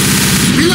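Mini Uzi gunfire in Left 4 Dead, a rapid, dense burst of shots filling the whole brief moment at close range, loud and continuous.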